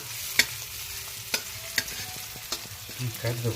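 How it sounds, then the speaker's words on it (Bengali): Chopped onions fry in a pan for poha pulao, a steady close sizzle broken by several sharp clacks of a spoon stirring against the pan. "পেঁয়াজ দিয়ে দিলাম। বাদামি করে ভেজে নেব পুরো একদম"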